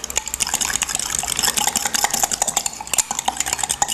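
Quiche filling with lemon pepper seasoning is beaten in a bowl, a fast, close run of rhythmic clicking and wet slapping strokes from a whisk or fork that continues without a break.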